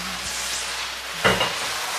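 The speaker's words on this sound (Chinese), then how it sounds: "开大火继续给它翻炒一下" Napa cabbage being stir-fried with sauce in a wok over high heat, a continuous soft sizzle broken by one sharper scraping toss partway through.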